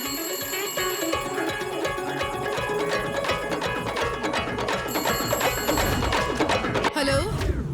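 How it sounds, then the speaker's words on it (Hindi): A telephone rings with an incoming call in a dubbed Hindi crime film scene, a steady repeating electronic ring layered over loud, dense background music throughout. "सर, हमने जिस टेलीफोन नंबर को टेप किया उस नंबर पर दूसरे नंबर से कॉल आ रहा है।"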